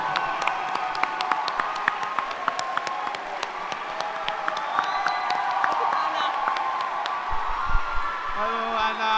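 A graduation-ceremony crowd applauds the school's cleaning, catering and ground staff, with sustained dense clapping punctuated by sharp individual claps and a few cheers, fairly loud and close throughout.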